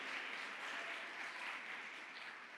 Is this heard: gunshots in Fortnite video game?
no